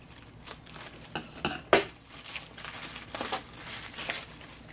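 Plastic packaging for an LED faucet light being cut open and unwrapped, close crinkling and rustling in uneven bursts with one sharper crackle, no talking.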